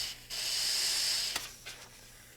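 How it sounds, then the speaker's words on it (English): An air nozzle blasts compressed air into the small hole at the end of a rubber helicopter throttle grip, a loud sustained hiss lasting about a second, followed by two short puffs, close and alone. "use an air nozzle to blow air into the small"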